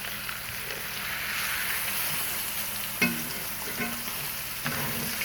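Rib eye steak and garlic searing in an iron pan over very high heat, a constant crackling sizzle with a few louder pops and utensil taps, close and steady throughout.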